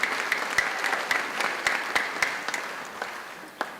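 An audience at an 8th grade graduation ceremony claps in a lively, sustained round of applause that thins and fades out toward the end, with one last clap.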